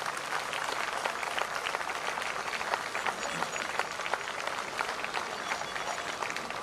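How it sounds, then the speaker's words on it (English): Audience at a school event applauding to welcome the chief guest, a continuous, fairly distant wash of clapping with no break. "please let's welcome our chief guest with a round of applause"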